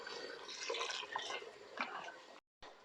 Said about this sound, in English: I'm going to add maybe a little bit more water.